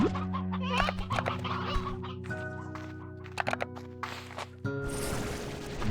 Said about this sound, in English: There's so many hens. Why is there so many hens all the time?